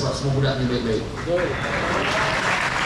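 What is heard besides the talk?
audience applause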